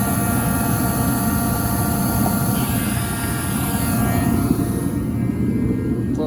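A heater burning jet fuel roars steadily and loudly, a continuous broadband rush with a low rumble and faint whine, alone without talk.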